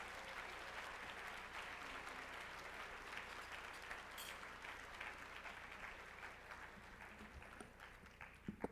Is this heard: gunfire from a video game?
no